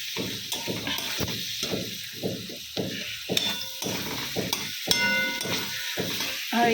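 Mustard seeds fry in a pan with a steady sizzling hiss, broken by a rapid, regular series of soft knocks or stirring taps running throughout at close range.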